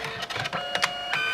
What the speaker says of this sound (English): I really like this printer because it's really kind of easy to get a professional looking print.